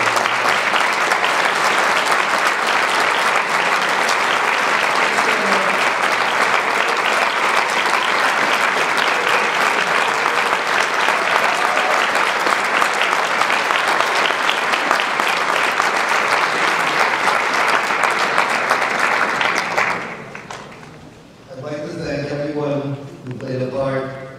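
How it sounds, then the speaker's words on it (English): An audience at a school dinner applauds loudly and steadily for about twenty seconds, a dense crowd clapping that then stops abruptly, followed by someone speaking. "everyone give them a round of applause"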